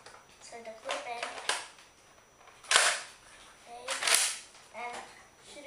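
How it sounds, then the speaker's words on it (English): A Nerf Rampage toy blaster is cocked and fired, giving a few sharp plastic snaps and clacks spaced a second or so apart, close and crisp, with a voice talking softly between them. "now I'm gonna be shooting the Nerf Rampage here"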